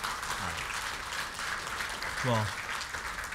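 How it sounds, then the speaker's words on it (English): A church congregation claps in praise, steady applause under someone speaking over a microphone, then the clapping fades. "Can we give Jesus one last hand clap of praise this morning?"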